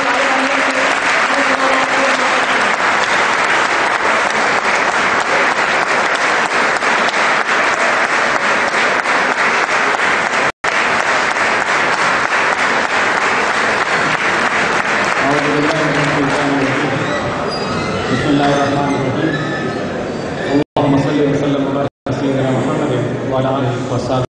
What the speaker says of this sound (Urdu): میں آپ سب کی بھرپور تالیوں میں دعوت دوں گا جناب سید زید زمان حامد صاحب کو